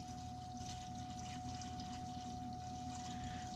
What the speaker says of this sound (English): And we're going to pour it in slowly.